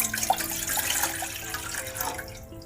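One mug of water is poured into a pan on a lit stove, making a close, continuous splashing trickle that tapers off at the end.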